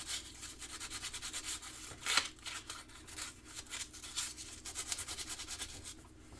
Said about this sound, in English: I'll use a little sandpaper to clean up that joint.